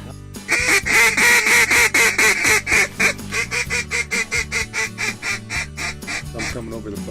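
Canada geese honk loudly and close by in dense, repeated calls, first in a near-continuous clamor and then in a quicker rhythmic series of honks, with a boat at a river hunt.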